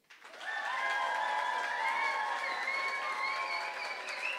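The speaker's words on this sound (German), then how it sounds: "dann klatsch bitte jetzt!" An audience at a poetry slam bursts into applause for the winner, rising quickly into sustained, dense clapping. A few whoops and cheers ring above it as the clapping holds steady for several seconds.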